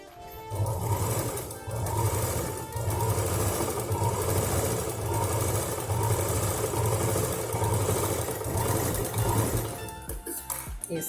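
A home sewing machine stitching a fabric mini shoulder bag, running in short, even bursts of about a second each with brief pauses between, close and moderately loud.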